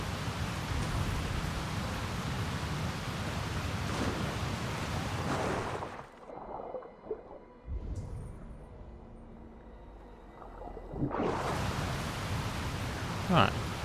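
A waterfall rushes in the video game Assassin's Creed Valhalla, a loud broadband roar that cuts out for several seconds midway and then returns just as strongly.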